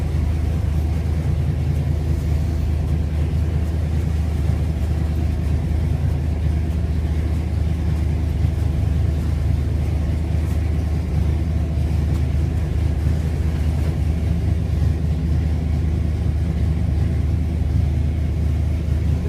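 A Chevrolet Camaro engine on a dyno drones steadily at high load for the whole stretch, around 5,000 rpm, a loud continuous rumble with no voices.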